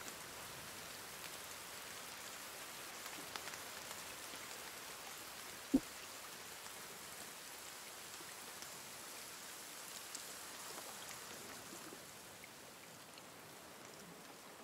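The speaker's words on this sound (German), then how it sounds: "Es fängt an zu regnen." Rain falls steadily in the survival game The Forest, a soft, even hiss of drops throughout with one brief sharp tap partway through and no voices.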